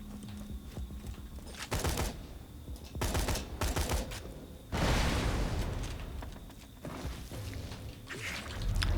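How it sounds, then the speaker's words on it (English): Borderlands 3 grenade launcher fire comes as repeated bursts of rapid clattering shots, each burst followed by booming explosions. The clusters are loud and close, with a heavy blast swelling near the middle. "Grenade launcher that just shoots a ton of grenades"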